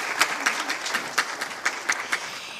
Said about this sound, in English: So I think a big applause to Tonia.